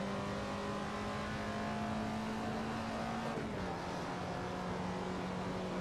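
A Ferrari 458 engine in the Assetto Corsa racing game at Laguna Seca, a steady sustained drone that drops in pitch partway through as the car shifts or lifts off, with no voices.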